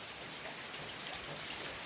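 Rain falling steadily on a rainy day, a dense, even hiss with no breaks, moderately quiet and with no voices.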